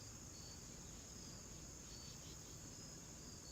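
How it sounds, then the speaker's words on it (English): Dense, steady insect chirring and buzzing outdoors, like crickets, fills the scene at a constant level with no gaps and no voices. "Bugs flying around out here."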